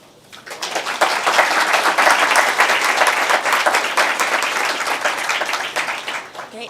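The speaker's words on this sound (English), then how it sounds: "join me in giving a round of applause for our three wonderful speakers" A panel audience breaks into steady, dense applause for three speakers, a loud continuous wash of many hands clapping that swells quickly and holds evenly for several seconds.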